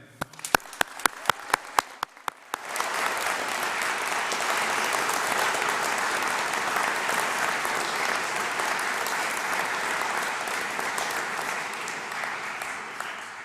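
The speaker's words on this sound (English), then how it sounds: "let's applaud all the graduates and make a big noise for them" Graduation audience at Stirling Castle, a few sharp, isolated claps at first, then a full, sustained roar of many hands applauding the graduates, loud and even for about ten seconds.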